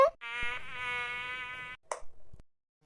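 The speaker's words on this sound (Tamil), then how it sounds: "என்ன கொசு கடிக்கு" A cartoon mosquito gives a loud, close, steady buzz with a wavering pitch that lasts over a second and a half, followed by a few brief thin sounds and then silence.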